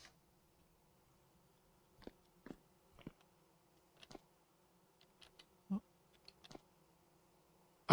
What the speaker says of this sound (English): I can also hear bees.